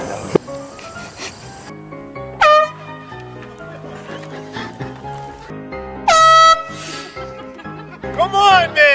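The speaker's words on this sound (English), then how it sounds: "marine sport foghorn" A marine sport foghorn air horn gives several loud, blaring blasts, sharply rising and held briefly, close by and cutting across background chatter and noise.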